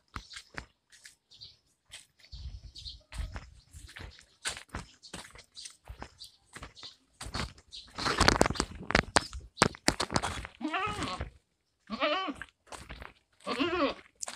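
Goats bleating repeatedly in a farm setting while being offered Indigofera leaves, several loud, wavering calls overlapping near the microphone with some chewing and rustling between them.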